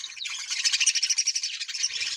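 Small pet birds being bathed in cold weather chirp close and loud: a rapid, continuous run of high, pulsing tweets fills the short stretch with no talk.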